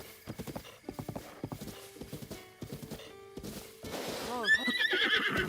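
Rhythmic clip-clop of horse hooves at a gallop in The Legend of Zelda: Breath of the Wild on Nintendo Switch 2, ending in a loud, close whinny.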